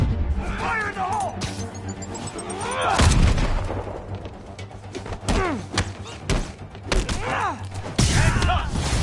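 A grenade blast and bursts of gunfire in a video game sound as sharp, heavy impacts scattered across the clip, with voices talking between and over the booms.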